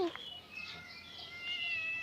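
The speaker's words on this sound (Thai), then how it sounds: "มาเร็ว เนี่ยค่ะแมว" A cat meows in drawn-out, high calls close by, while a person talks softly over it.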